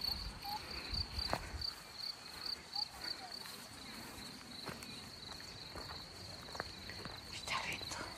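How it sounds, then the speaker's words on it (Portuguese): Crickets chirp in a field of wildflowers near a fishing spot, a steady high repeating trill heard close, with soft footsteps and a little talking over it. "E os grilos."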